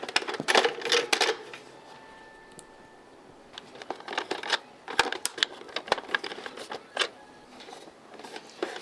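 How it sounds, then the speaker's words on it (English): Phillips head screwdriver backing screws out of a JVC PC-70 boombox, with clustered clicks and scraping turns in short bursts separated by quiet pauses, close up and no speech. "I'm going to take a Phillips head screwdriver, and I'm going to remove 1, 2, 3, 4, 5 screws"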